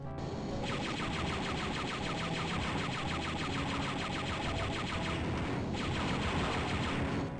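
Enemies fire blasters at the player in Star Wars: Dark Forces, a dense, continuous stream of rapid-fire shots that rattles without pause for several seconds, loud and alone with no voices.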